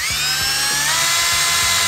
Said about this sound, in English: Never feels good to drill holes in the side of your van.